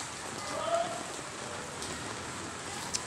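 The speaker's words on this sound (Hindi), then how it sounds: "बारिश हो रही है फुल तेज़ यार" Heavy rain pours steadily in a dense, hissing patter, close and continuous, with a few sharper drips standing out.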